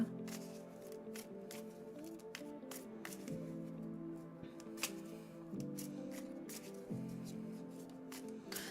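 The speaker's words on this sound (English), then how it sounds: "So let's shuffle and see what we got for you." Tarot cards being shuffled by hand, heard as a steady run of soft riffling and sharp snapping clicks close to the listener, with a faint musical drone playing quietly underneath.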